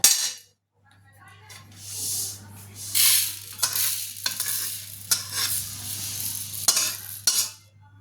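Dry-roasted rice stirred in a kadai for muri ghonto, a spatula scraping in repeated sweeps with sharp clinks against the pan over a steady low hum, close and fairly loud.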